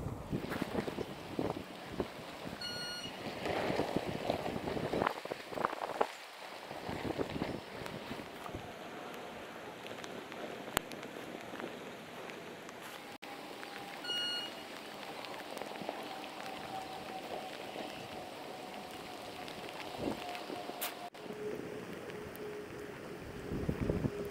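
Heavy rain and gusting wind outdoors, a dense continuous wash of rainfall with buffeting wind noise on the microphone and occasional knocks, steady throughout with no one talking.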